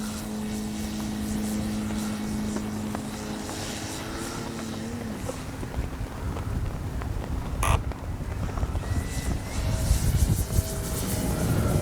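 A Hangar 9 Valiant RC model airplane with a 20cc gas engine drones steadily overhead, its propeller whine shifting in pitch as it flies, holding at moderate loudness with a brief sharp crack near the middle and swelling toward the end.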